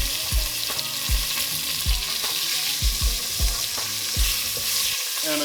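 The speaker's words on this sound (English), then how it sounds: "at this point, we're gonna go in with some roughly chopped onions" Roughly chopped medium onion frying in oil in a pan for short ribs, a loud steady sizzle close up with repeated low thumps and scrapes from stirring, no talking.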